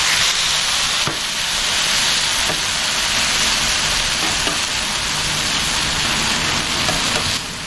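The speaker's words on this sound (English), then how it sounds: "Oh, listen to that sizzle." Steady, loud sizzling and crackling of chicken frying in a hot pan, continuous throughout with occasional faint clinks.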